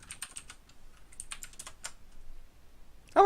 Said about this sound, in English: Fucking mechanical keyboards.